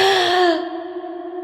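A woman's breath in a film sound effect, heard as a strained, moaning gasp that slides in pitch then tails off into a softer sustained exhale, close and alone, as she is revived beside a lake.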